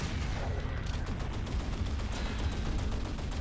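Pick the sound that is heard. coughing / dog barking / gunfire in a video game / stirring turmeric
gunfire in a video game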